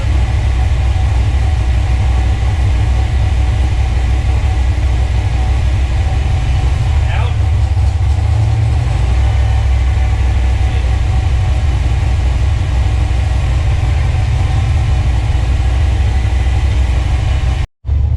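A car's drivetrain spins with the clutch pedal pressed in, a loud steady mechanical whir and low rumble running continuously, close up, during a Maximum Motorsports clutch cable install, ending abruptly.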